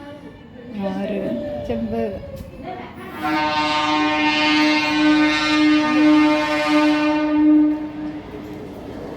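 A train runs along a railway track right beside a home balcony, loud and close, its horn blaring in a long sustained tone for several seconds after someone speaks briefly at the start.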